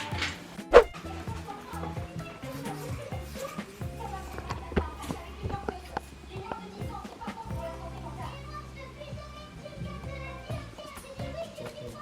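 A person imitates a dog with short, barking yips in a noisy family home, amid children's voices and general talk.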